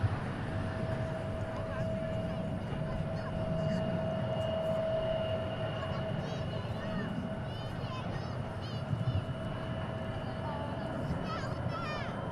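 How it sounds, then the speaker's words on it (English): An Embraer E175 airliner departing DFW International Airport, a steady distant jet engine roar under continuous talking and background chatter, with faint chirping sounds above it. "Our next departure is going to Corpus Christi on an E175."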